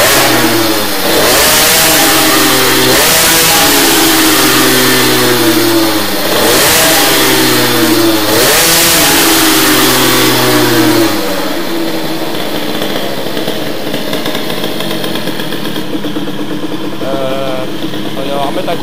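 Teknix T6 engine fitted with a Boost cylinder head, revved hard in repeated bursts that rise and fall, loud and close, before settling to a rough idle with people talking over it.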